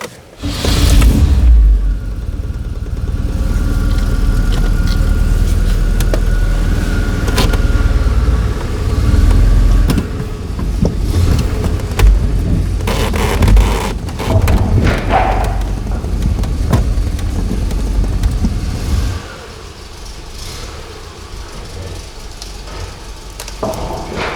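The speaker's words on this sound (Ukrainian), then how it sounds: "Зараз будемо робити ще один екстрім експеримент. Будемо з'їжджати з опор." An old GAZelle bus converted into a camper van rolls off its supports, its engine rumbling steadily for about twenty seconds with scattered thumps and clunks before it quiets to a lower idle.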